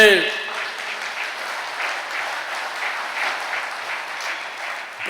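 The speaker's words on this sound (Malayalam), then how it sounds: "ഒന്ന് കൈയർത്തി കൈയടിച്ചേ" A church congregation at a Catholic service claps together in sustained applause, a dense, even wash of many hands that holds steady for several seconds, fairly loud and close.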